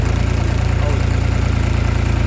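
A tractor engine chugs in a field with a loud, steady low-pitched knock, running evenly and close by for the whole short stretch.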